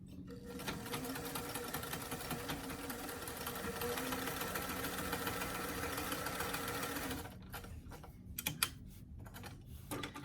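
A sewing machine stitches the seam of a small doll T-shirt, running in a steady fast whir for several seconds and then stopping, followed by a few faint handling clicks.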